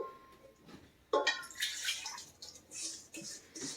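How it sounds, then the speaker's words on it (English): A liquid chicken mixture is poured into a Ninja cooker pot, giving a soft splashing gurgle that starts abruptly and trickles on unevenly, close and fairly quiet, with no speech. "And it says pour the mixture into the pot."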